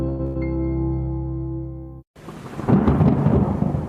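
Heavy rain with rolling thunder from an advertisement's sound effect, starting abruptly after a steady tonal hum cuts out, then loud, dense rumbling and hissing downpour building toward the end.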